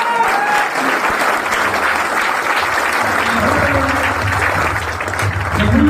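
Steady applause from a large audience in a hall fills the whole stretch, dense and continuous without a break, with faint voices mixed into the clapping.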